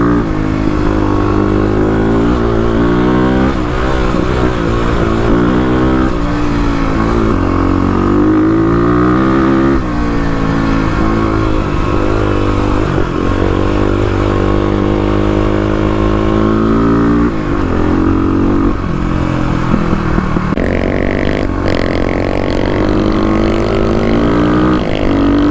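A 35 hp Kawasaki KLX351 dirt bike on an off-road trail, its engine loud and close throughout, revving up and down in continuous rising and falling pitch with no pauses.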